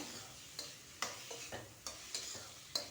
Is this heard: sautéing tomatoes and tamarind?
yes